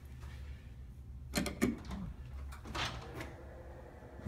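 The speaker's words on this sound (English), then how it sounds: "Magically, both doors open up." Automatic double doors near a health center, opened with a push button, give a couple of soft mechanical clunks and a faint sliding hum in a quiet indoor space.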